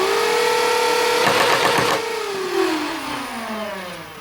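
A Nerf Pulse Rifle's flywheel motors rev up with a rising whine, then the blaster fires in a short burst of mechanical rattling before the motor note winds down, close and without talking.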